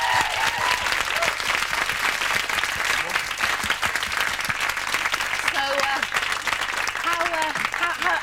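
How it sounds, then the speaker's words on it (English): Sustained studio audience applause on a television lunchtime show, dense and steady throughout, with voices talking over it. "Round of applause."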